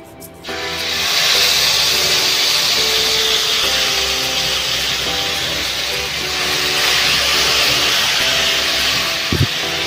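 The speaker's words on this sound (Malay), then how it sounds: "Setelah minyak panas, masukkan cili kisar." Ground dried chili dropped into hot oil for sambal goreng terung, a loud steady sizzling hiss that begins after a brief start and carries on evenly to the end, with a faint hum underneath.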